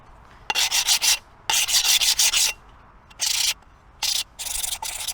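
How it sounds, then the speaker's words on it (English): A diamond polishing hand pad rubs along the cut edge of a tile in short bursts of scraping strokes, close and clear, with brief pauses between groups of strokes. "Take our diamond polishing hand pads, and we're just going to polish out any imperfections"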